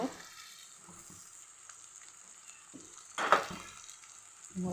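Potato poha is stirred in a pan over faint sizzling, with soft scraping and a louder spoon-against-pan clatter midway, close and quiet, no talking.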